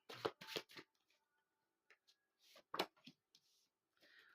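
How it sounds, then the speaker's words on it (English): Oracle cards are shuffled by hand in quiet, close bursts of soft riffling and slapping, split by short pauses, with no one talking. "Asking me to shuffle again before I draw the next card."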